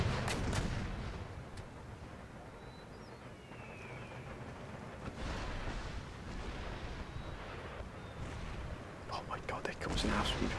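Five artillery batteries firing in the Empire Total War strategy game, a series of dull, rumbling cannon booms scattered across the scene with battlefield noise between them, while someone talks quietly over the top.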